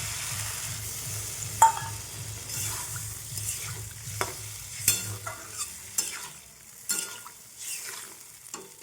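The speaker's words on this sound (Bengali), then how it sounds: "এবার জল দিয়ে দিলাম।" Water goes into a pan of capsicum fish curry, giving a steady close sizzle broken by sharp spoon taps and scrapes against the pan as the contents are stirred.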